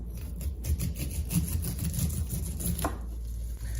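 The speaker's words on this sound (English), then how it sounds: "I'm just going to run my knife down the cob and remove the kernels" Kernels cut off a corn cob with a knife run down its length: close, rapid scraping and rasping strokes in a steady stream with no talk.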